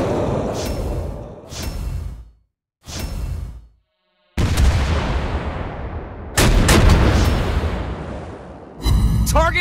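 Heavy naval gunfire from the Tier 8 U.K. cruiser Albemarle in World of Warships Blitz: repeated loud booming shell blasts with whooshing tails, several separated by short silences, then denser overlapping impacts.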